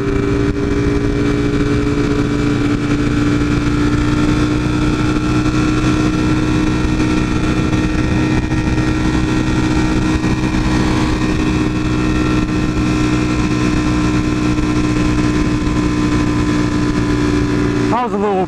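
Cars including a Lamborghini Huracan pulling hard on the road, heard as a loud sustained engine roar from close up, continuous throughout with no pauses.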